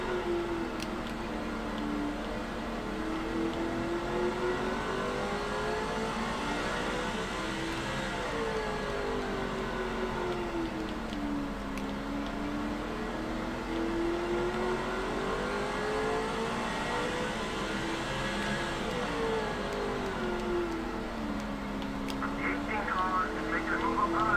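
Stock cars race around the short Martinsville track in the NASCAR 06 video game, a steady loud engine drone with rising and falling pitch as cars accelerate and brake through the turns, with a commentator talking over it.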